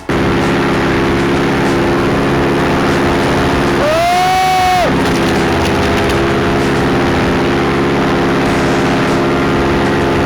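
A paramotor engine runs at full throttle, a loud, steady, droning buzz that holds without letup from start to finish, with a brief higher whine rising over it partway through.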